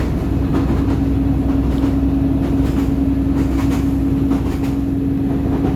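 Steady rumble of train wheels rolling over jointed track, with a continuous rhythmic clatter and a low hum throughout, no voices.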